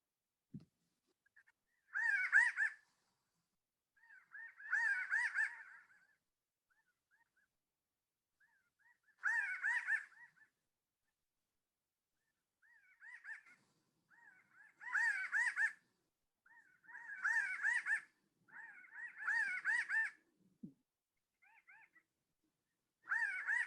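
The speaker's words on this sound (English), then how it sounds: "If you hear this song, look up, because a Pinyon Jay flock is probably flying by" Repeated bursts of harsh, nasal calls from a flock of Pinyon Jays, coming in irregular clusters with quiet gaps between them.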